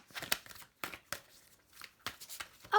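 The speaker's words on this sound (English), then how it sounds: "I really feel like I need first to give it a good shuffle." Tarot cards shuffled by hand in short riffling bursts, about four quick crisp flurries separated by brief pauses, close and fairly loud with no talking.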